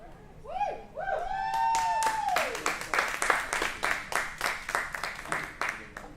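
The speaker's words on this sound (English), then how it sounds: "Put your hands together for Jennifer Farnsworth and Kevin Bales!" An audience claps as two presenters, Jennifer Farnsworth and Kevin Bales, are introduced, with steady rhythmic applause continuing while a voice and a whoop rise over it.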